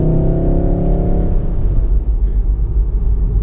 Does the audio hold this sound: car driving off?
yes